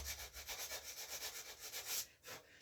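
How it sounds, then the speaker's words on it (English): A fingernail scrapes leftover gauze fibers from the junction between the rawhide backing and the wooden paddle bow, a quick rhythmic series of soft, close rubbing strokes. "I'm using my fingernail and jamming it in there to get rid of any trace of, what do you call that, gauze, little gauze fibers"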